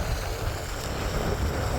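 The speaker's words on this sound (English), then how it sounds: "The wind kicks up." Steady wind rushing and buffeting across the microphone during blokarting (land sailing) in Cyprus, a dense continuous roar with no clear pauses.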